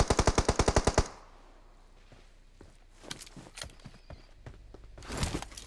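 A rapid burst of about nine loud automatic shots opens a solo-versus-squad battle royale game, followed by quieter footsteps and scattered distant gunfire, with another loud burst near the end.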